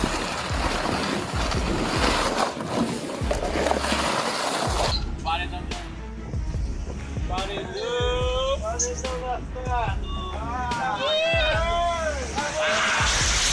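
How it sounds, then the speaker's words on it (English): Ocean waves surge and crash around a ship at sea in stormy weather, a loud rushing wash with wind, joined midway by voices talking over the water noise. "The waves reminding them who's really in charge."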